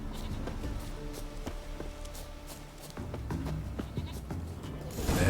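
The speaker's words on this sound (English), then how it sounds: "Here, goat." Goat bleating in the video game The Witcher 3, a few wavering calls heard amid a busy bed of game ambience and music, moderately loud with no speech over them.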